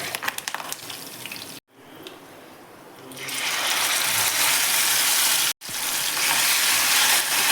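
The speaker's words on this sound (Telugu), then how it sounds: "తాలింపు అన్నీ బాగా వేగిన తర్వాత టమాటా పేస్ట్ని వేయండి రెండు మూడు నిమిషాలు బాగా కుక్ చేయండి" Tomato paste dropped into a hot tempering for tomato chutney, going from quiet scraping and stirring into a loud, dense, continuous hiss of frying, cut twice by brief dropouts.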